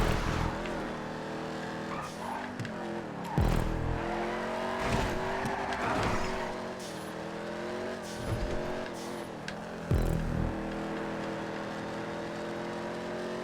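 Race cars in GTA 5 driving on a custom track, engines droning with shifting revving tones throughout, punctuated by tire squeals and skids, with speech faintly underneath.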